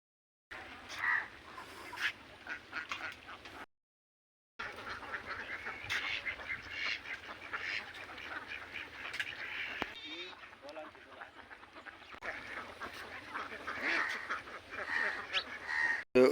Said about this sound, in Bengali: যেহেতু 5000 হাঁস তারা কিন্তু এই খামারটার মধ্যে পালন করে।